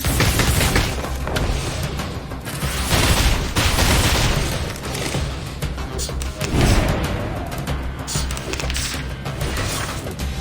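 Rapid, dense booms and crashing impacts from a barrage attack in the video game Reverse: 1999, a continuous loud roll of explosions with surges and swells throughout.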